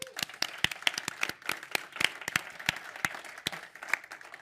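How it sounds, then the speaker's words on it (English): A small audience claps for Kush Band at a startup accelerator pitch event, the sparse, distinct individual claps clearly separable and uneven in rhythm, moderately close, with some crowd murmur beneath. "let's give a warm applause to Kush Band"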